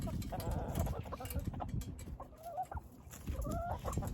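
Several chickens cluck and murmur close by in short, overlapping bursts, with soft rustling and a little background noise.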